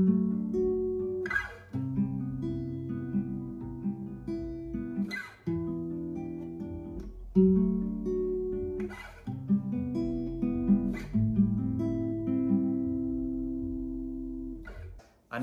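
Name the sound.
guitar plucking chords of a song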